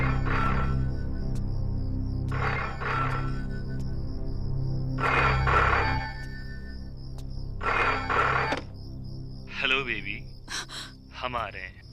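A telephone rings over and over in a Hindi-dubbed action movie scene, four evenly spaced trilling bursts a couple of seconds apart, followed by short gasps and vocal sounds near the end.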